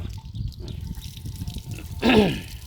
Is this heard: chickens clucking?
no